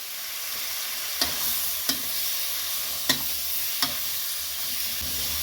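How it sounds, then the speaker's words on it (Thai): Beef stir-fries with fermented fish sauce in a pan, a constant bright sizzle punctuated by four distinct spatula clacks at regular intervals, near and with no voices. "ผัดคลุกคลุกคลุกให้เข้ากัน"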